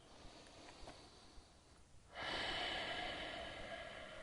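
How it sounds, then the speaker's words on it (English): Slow, controlled breathing during a yoga hold, a quiet stretch of soft air followed by a long, steady, louder exhale or breath that continues to the end, close and alone. "really slow, controlled breathing to help your body relax"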